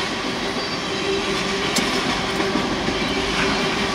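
A Norfolk Southern freight train with boxcars rolls past close by, a continuous heavy rumble of wheels and cars with rail clatter and faint squeals, no voices.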